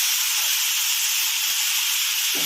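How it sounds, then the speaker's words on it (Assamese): Taro stolons frying in a pan over a medium flame give a steady, close sizzling hiss from start to finish, and a faint clatter of stirring comes near the end. "মিডিয়াম ফ্লেমত মই এনেকৈ অলপ ভাজি ল'ম।"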